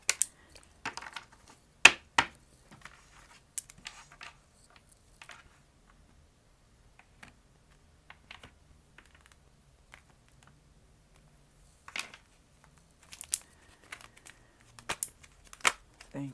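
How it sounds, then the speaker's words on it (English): A deck of tarot cards is cut and handled: sparse, quiet taps and riffling clicks come in small bursts separated by near silence. "Cut this deck."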